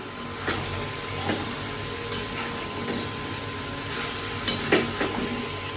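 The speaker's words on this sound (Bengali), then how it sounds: "এরপর ভালো করে কষে নিচ্ছি" Chicken being sautéed in a pan, a steady close sizzle broken by scraping stirs and a few sharper clinks toward the end.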